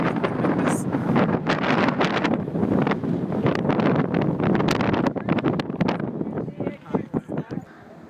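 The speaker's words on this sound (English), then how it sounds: "It's kind of windy." Gusty wind buffets the microphone on an exposed hillside in Israel, a loud continuous roar that swells and drops, easing toward the end, with people talking underneath.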